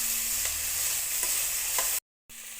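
Onions and finely chopped curry leaves frying in a pan for jeera rice: a steady, soft sizzle with a few light stirring scrapes, continuous until a brief cut to silence near the end.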